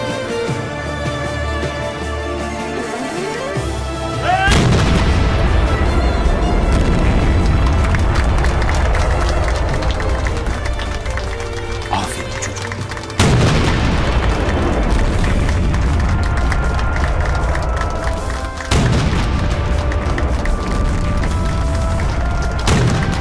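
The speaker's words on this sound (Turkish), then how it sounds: "Çatışmayı takiben hedefe yönelik top atışları olacak paşa." Artillery cannon firing at targets marked by red flags across a basin during a military exercise, three loud booming blasts at intervals, each followed by a long rolling rumble and echo.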